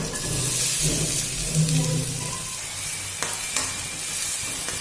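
Onions sizzle and hiss in hot oil, a constant crackling frying sound up close with a few sharp clinks of a utensil.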